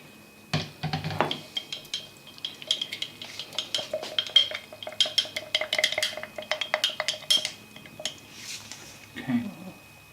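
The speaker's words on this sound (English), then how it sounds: "Mix it up to like a thin, runny pancake" A utensil stirs thin, runny sourdough batter in a bowl, giving a steady run of light clinks and scrapes against the bowl for several seconds, with a brief voice near the start.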